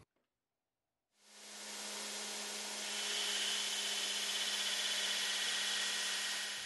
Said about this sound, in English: First, I'm grinding the profile, going flat out on my baiter with a 36 grit ceramic belt.